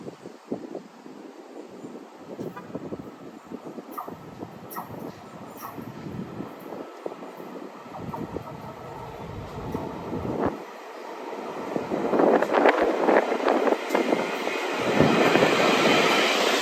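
Locomotives from a triple header on an equipment move along the Port Jefferson Branch rumble past, faint at first and building to a louder, nearer roar in the final seconds, with wind buffeting the microphone.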